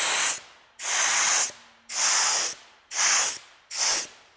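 A Suma Performance ceramic coating spray hisses onto a car in five loud, close bursts, each lasting about half a second with short silent gaps between them, and no talk.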